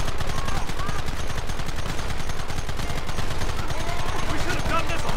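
Sustained Red Dead Redemption gunfire, rapid machine-gun bursts mixed with rifle shots that rattle continuously and loudly with no pause, with voices faintly underneath.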